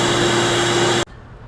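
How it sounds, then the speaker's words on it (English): Vacuum cleaner running loud and close with a steady whine while cleaning off a router-cut foam tool organizer, then abruptly switching off and leaving a quiet room. "let's vacuum it off and see how we did."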